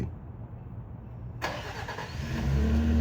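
A Nissan Frontier engine cranks and catches by remote start, a sudden burst of starter noise followed by the engine settling into a steady, rising idle rumble nearby.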